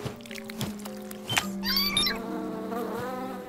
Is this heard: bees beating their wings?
yes